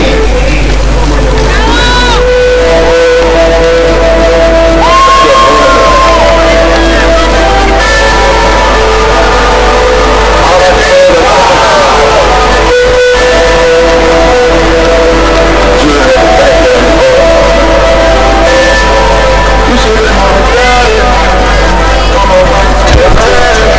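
Crowd at a U16 flag football match between Burgas Wolves and Sofia Bears: loud, continuous hubbub of voices with scattered cheers and shouts over a constant low hum, lasting throughout.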